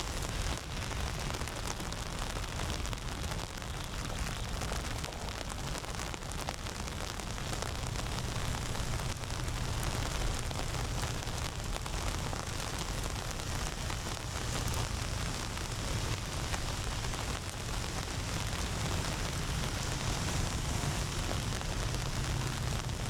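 Steady, heavy rain pours by the Han River in Da Nang, a dense, unbroken hiss that stays loud and even throughout with no voices.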